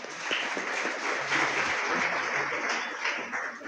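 An audience at a school reading and calligraphy competition prize ceremony applauds a teacher, a dense, steady wash of clapping from many hands at moderate distance lasting the whole stretch.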